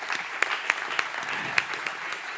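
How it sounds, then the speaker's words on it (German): A lecture audience claps steadily, a dense wash of hand claps with a few sharper claps standing out, moderately loud and without voices. "Du wünschst einen herzlichen Applaus"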